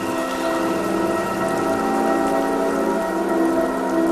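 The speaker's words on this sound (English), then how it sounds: "The rain forced the weapons from their hands." Heavy rain pours down steadily in a dense, continuous hiss of drops on surfaces, with no pauses or voices.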